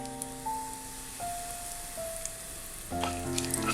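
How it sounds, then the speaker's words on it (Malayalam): Bay leaf and whole spices sizzle and fry in hot ghee, a steady close crackle with a few faint clinks over it. "ഈ പാത്രം ചൂടായി കഴിയുമ്പോഴത്തേക്കും അതിലേക്ക് 1 ടേബിൾ സ്പൂൺ നെയ്യ് ചേർക്കാം. ഇതിലേക്ക് സ്പൈസസ് എല്ലാം ചേർക്കാം."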